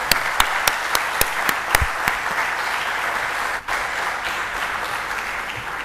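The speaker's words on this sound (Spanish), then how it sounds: "pido un aplauso para Percival por el esfuerzo de venir" Conference audience applauding speaker Percival Manglano, a dense, steady wash of clapping from a crowd, with several sharp individual claps standing out near the start and a brief dip midway, loud and close, no voices.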